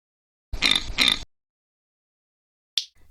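A pig gives two quick, close oinks in a row, fairly loud and alone, then silence and a short faint tick at the end.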